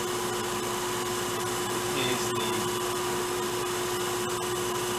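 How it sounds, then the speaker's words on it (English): The top-mounted distribution blower on a junked Harmon pellet stove runs with a steady, even whir and a fixed tonal hum, close and continuous with no voices. "the distribution blower, which is the one on top, and it's pumping some heat out of those"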